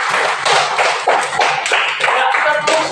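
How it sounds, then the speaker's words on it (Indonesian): Schoolchildren in an Indonesian classroom give a classmate a round of applause, a brisk burst of close, crisp hand claps in uneven bunches, lasting a few seconds. "Ya, tepuk tangan dulu buat Upin."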